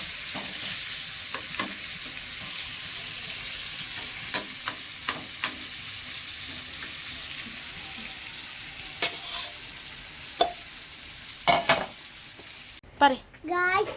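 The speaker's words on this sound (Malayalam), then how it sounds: "ഇപ്പോൾ ചെമ്മീൻ ഫ്രൈ ചെയ്യാം" Prawns fry in a pan with a steady, hissing sizzle, broken by scattered scrapes and clicks of stirring, and a brief voice near the end.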